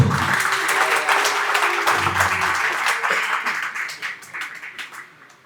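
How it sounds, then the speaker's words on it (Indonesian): Audience at the opening of a national futsal talent detection event in Papua claps for the chairman, a brisk burst of applause that gradually thins and fades out. "kamu tepuk tangan untuk Pak Ketua dulu"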